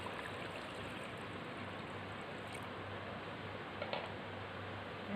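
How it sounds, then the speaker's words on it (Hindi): Steady rushing of water pouring continuously into a pressure cooker holding mutton, a constant broadband stream with no voices, plus a faint clink near the end. "अब हम इसमें पानी डालेंगे।"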